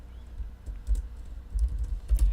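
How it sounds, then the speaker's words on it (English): Close, steady clatter of keystrokes on a computer keyboard, bursts of typing with brief pauses, someone entering JavaScript code while working through a programming book. "is just typing this thing out."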